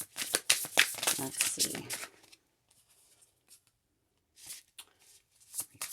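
Tarot cards riffled and shuffled close up in rapid papery bursts, followed by quieter scattered card handling and a brief spoken remark.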